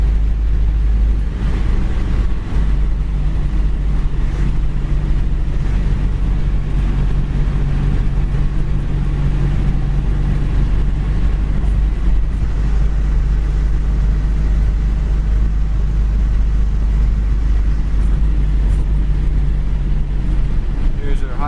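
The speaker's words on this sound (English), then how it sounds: "Speedometer, we're doing about 60 mile an hour. Still got plenty to give." A black 1953 Mercury Custom cruising at about 60 mph, heard from inside as a loud, constant low road-and-engine rumble mixed with buffeting wind noise throughout.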